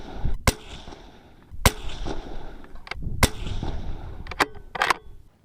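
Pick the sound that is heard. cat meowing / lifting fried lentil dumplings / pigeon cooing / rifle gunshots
rifle gunshots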